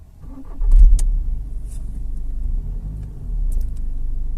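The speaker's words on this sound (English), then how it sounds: "Start the vehicle." A 2016 VW Passat engine cranks and catches near the microphone, settling into a low idling rumble after a brief swell in loudness.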